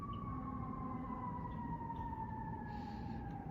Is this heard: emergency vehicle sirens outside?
yes